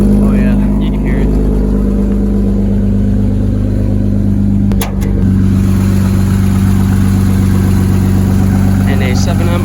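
A Toyota Supra's 7M engine runs at a steady idle, a low continuous rumble with a slight exhaust leak, close and loud throughout, with a brief knock midway.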